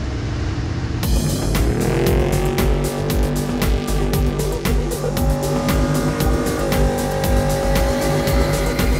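A Hino race truck drives along at a steady, loud pace, its engine droning continuously from close range with rhythmic rattles and bumps over rough ground, heading toward the Finke race, with no talking.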